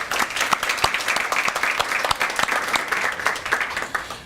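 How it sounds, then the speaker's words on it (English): Audience applause fills a student of the month breakfast as a November honoree and her family are recognized, steady dense clapping from a room of people, fairly close and continuous throughout. "Let's give her a round of applause."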